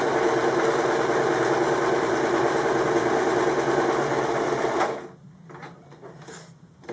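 A sewing machine stitches steadily through an origami candle mat, its loud continuous mechanical whir running for about five seconds before stopping abruptly, followed by quieter handling noises.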